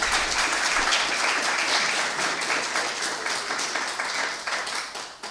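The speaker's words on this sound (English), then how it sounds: "I want a special round of applause for Kathy" Audience applause for Kathy Webb at a college History Matters lecture on fallen officers in Rutherford County, a dense, steady wash of many hands clapping that tapers slightly toward the end.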